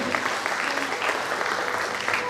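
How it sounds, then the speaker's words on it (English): A crowd gives a dense, sustained round of applause at a government school awards ceremony in Goa, steady and loud from start to finish. "Let's welcome them with a big round of applause once again."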